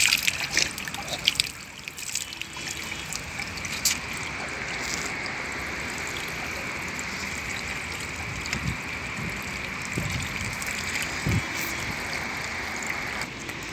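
Rain falling at the Haram in Mecca, a continuous soft hiss of drops and trickling water with a few light taps and splashes. It stays even and moderately faint throughout with no clear talk.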